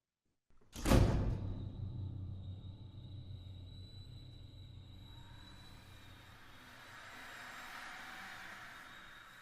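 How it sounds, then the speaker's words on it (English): A door swings open within an electroacoustic piece, a sharp close thump followed by a long, low reverberant rumble that gradually fades into a soft airy wash, with no talk. "Another space opening moment, also using the door, but instead of closing it, this one is opening."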